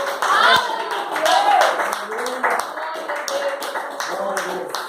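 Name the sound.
congregation applauding in church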